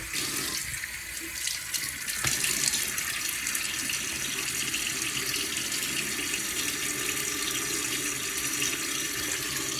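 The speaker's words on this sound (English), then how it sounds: "Let me get my face wet." Water runs steadily from a bathroom tap into a sink while a face is wetted for a shave, a constant close splashing rush with one brief knock near the start.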